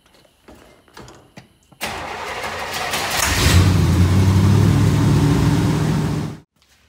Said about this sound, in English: Now let's try to start the car